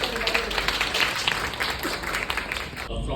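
Loud, dense applause from an audience at a brand event, continuous clapping throughout before cutting off at the end.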